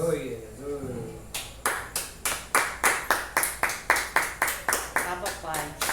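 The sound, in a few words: congregation clapping at church service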